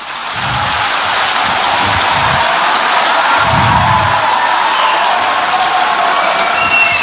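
Loud, steady applause and cheering from a studio audience welcoming a guest in Chhattisgarh, sustained throughout, with a broad hissing wash like heavy rain and some low crowd rumble.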